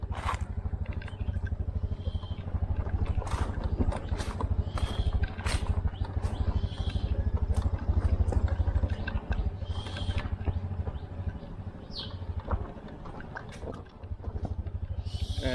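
A scooter rides over rough ground outdoors, its low engine drone steady throughout with scattered scrapes, rattles and bumps from the uneven surface, recorded close.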